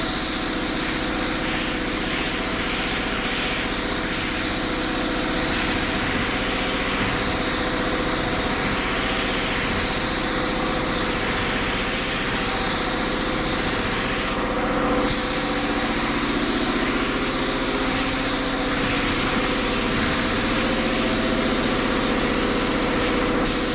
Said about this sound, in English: I'm going to get the compressor and everything running, and I'll come back and we'll shoot this sealer